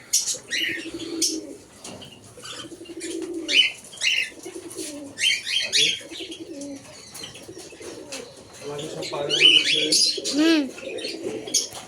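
Pigeons kept in a village coop coo repeatedly in low, throaty phrases, mixed with sharp chirps and the brief flutter of wings, all close and clear with no talking.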